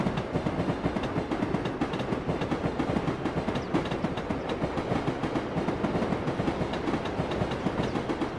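A train running in Train Simulator Classic, with a steady, dense rolling rumble and a rhythmic clickety-clack of wheels over rail joints, loud and continuous throughout.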